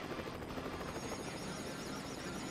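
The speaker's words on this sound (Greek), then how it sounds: "Ένα σούπερ ελικόπτερο." A super helicopter in a Greek children's cartoon about a super truck gives a steady, soft whirring rotor drone throughout, faint and unbroken.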